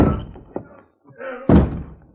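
Heavy blows strike a locked, solid wooden barn door inside a burning barn as someone tries to break through. Two dull thuds land about a second apart, close and loud, with voices speaking around them.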